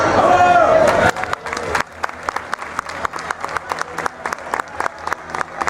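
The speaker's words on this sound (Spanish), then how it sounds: "Un aplauso también para nuestras guapas bailaresas." A festival crowd in Gurrea de Gállego cheers for the dancers. Loud whistling and crowd noise fill the first second, then sparse, separate claps follow as scattered, uneven hand-claps that fade.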